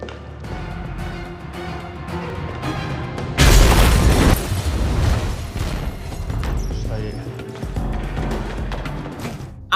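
A loud explosion erupts in an action film, a sudden broadband boom followed by a long rumbling, crackling tail under a tense music score.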